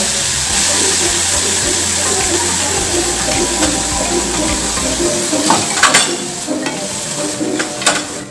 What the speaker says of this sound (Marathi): आता भाजी शिजण्यासाठी अर्धा कप भर पाण्याचा हपका आपण यावर मारणार आहोत